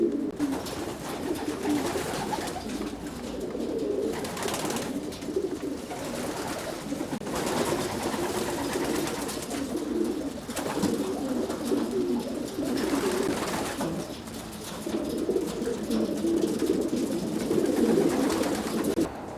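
Racing pigeons in a large loft aviary coo steadily and continuously, a close, dense layer of overlapping low burbling calls with no speech.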